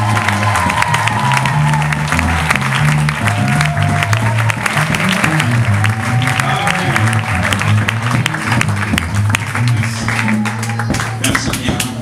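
A church congregation applauds at a Bible seminar led by Pastor Valentin Mazayakana on the fourth day of an Easter gathering: dense, loud, sustained clapping with music playing underneath.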